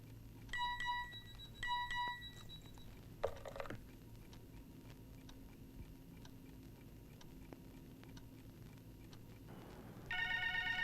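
A landline telephone rings after a number is dialled, giving two short electronic ring bursts near the start, then a long stretch of quiet room tone and a brighter tone near the end.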